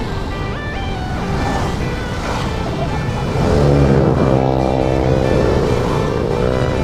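Trucks speed past on a city road during a typhoon near Baclaran, a loud rushing roar and engine drone swelling midway over steady traffic and rain noise.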